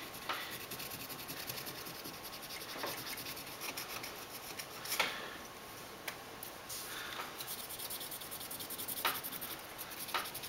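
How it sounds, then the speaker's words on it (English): A cloth rubs old thermal compound off a heat sink in a steady, faint, dry scrubbing that goes on throughout, with a few light ticks and scrapes close to the microphone and no talk. "And just rub it on there, and the compound will just come right off."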